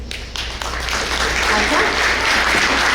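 Audience at a school district breakfast applauding its Kindness Grows Here partners as they stand, a dense wash of clapping that swells and holds steady through the whole stretch, with a low room hum beneath.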